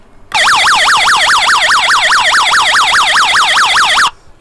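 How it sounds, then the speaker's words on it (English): A carbon monoxide alarm fitted inside a Renault Master campervan conversion sounds a loud, rapidly warbling electronic tone that rises and falls repeatedly for about four seconds, then cuts off abruptly. "carbon monoxide monitor, so just an alarm."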